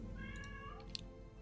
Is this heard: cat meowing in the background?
yes